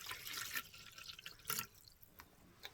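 Water poured into a container while making cold process soap: a soft, broadband splashing trickle with drip-like bursts, close and fairly faint, with no talk.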